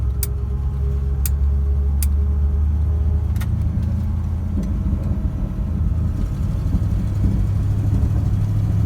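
A 1958 Chevrolet Impala engine idles with a loud, steady low rumble, punctuated by a few sharp ticking clicks early on.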